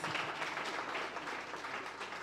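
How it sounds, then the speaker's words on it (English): An audience applauding at a proprietors' and principals' conference, steady dense clapping throughout, moderately distant and fairly soft, with no talk over it. "give her a round of applause for that"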